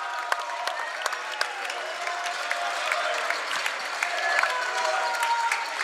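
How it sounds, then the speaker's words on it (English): The visiting crowd at a boys high school basketball game in a gym gives an ovation, a burst of scattered claps and cheers that thickens into sustained applause, moderately loud and slightly distant, with voices mixed in. "a big ovation from the visiting crowd"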